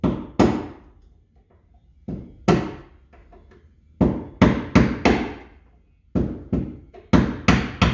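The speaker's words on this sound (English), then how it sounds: "I'm gonna pop this one out on the bottom" Phillips screwdriver prying at a rear hatch support strut clip on a 1997 third-generation Toyota 4Runner, sharp clacking knocks and thunks that come in irregular bursts, close and loud.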